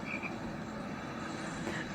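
Frog croaking faintly in the background, a low continuous chorus under steady ambient noise, distant rather than close, with no talking.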